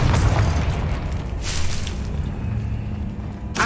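A Confringo blasting spell goes off in Hogwarts Legacy as a deep, rumbling explosion with a fading roar, followed by a sharp burst near the end.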